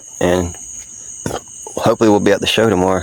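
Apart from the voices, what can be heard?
crickets chirping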